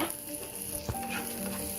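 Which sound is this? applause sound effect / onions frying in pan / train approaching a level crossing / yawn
onions frying in pan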